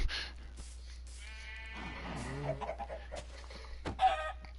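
Video-game chickens cluck and squawk in a survival world, a few short clucks and bleat-like calls close and fairly loud over a low steady hum.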